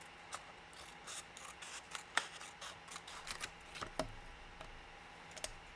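Scissors cutting paper freehand during papercraft, a series of faint, quick snips and rustling paper rubs close by, with no talking.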